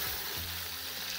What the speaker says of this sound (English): keep frying the meat in its own juices